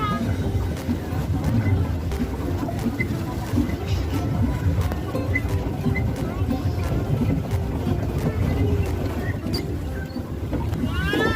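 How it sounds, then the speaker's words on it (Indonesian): A small boat rides on the water at a tourist park, with a steady low rumble and wash of water, while children and adults chatter close by throughout. "Caca lagi naik perahu"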